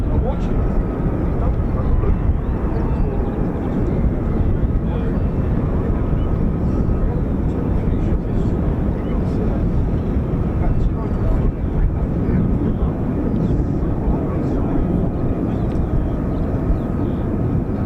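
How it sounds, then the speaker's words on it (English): A US Air Force F-35A fighter jet roars as a broad, continuous rumble at an RAF Lakenheath airbase, loud and steady throughout with wind buffeting the microphone. "I would like to say an F-35A."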